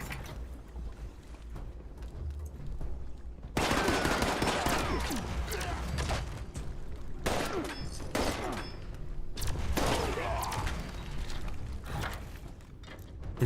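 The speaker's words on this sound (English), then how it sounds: "This is the plasma caster" A plasma caster gun fires in a video game in two loud bursts of rapid, crackling shots with mechanical clatter between them. Quieter gaps separate the bursts.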